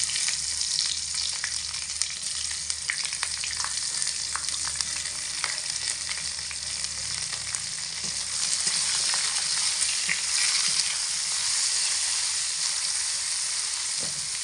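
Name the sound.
cut star fruit frying in a pan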